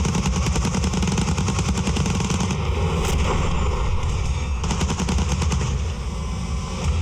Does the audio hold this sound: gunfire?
yes